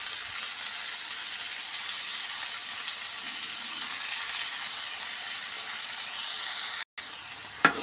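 Fenugreek leaves fry in a hot pan after ginger, a steady loud broadband sizzle that drops out briefly near the end before resuming with a small clatter.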